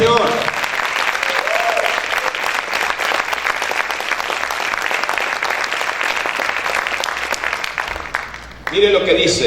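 Church congregation bursting into loud, sustained applause, dense clapping filling the room with voices mixed in, until it breaks off abruptly near the end.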